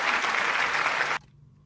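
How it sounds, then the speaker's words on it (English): Audience applause at a junior high school quiz competition, a dense burst of clapping lasting about a second that cuts off abruptly into quiet. "You deserve a round of applause."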